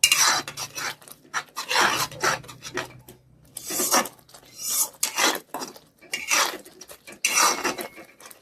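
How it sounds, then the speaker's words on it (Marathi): Spinach puree being sautéed in oil in a pan, with repeated scraping strokes of a spatula rasping across the pan in uneven bursts and short pauses between them, close and fairly loud, with no talking. "याला छानसं असं परतून घेऊया 2-3 मिनिट."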